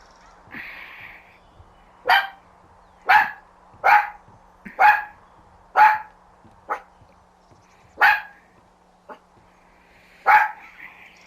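A dog in the Firewatch video game barks about eight times in sharp, evenly spaced single barks, fairly close and loud over a faint low hum, with one short soft whine early on.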